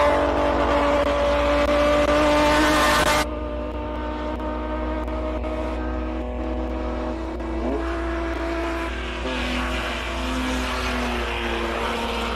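A classic race car runs a hill climb course, its engine a loud, steady drone with harmonic tones and a sharp drop in intensity about three seconds in, then holding on at a lower level.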